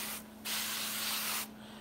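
A hand sprayer hisses cooking spray onto a sheet pan in a single continuous burst of about one second, quiet and close, set against a faint steady hum.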